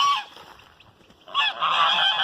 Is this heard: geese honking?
yes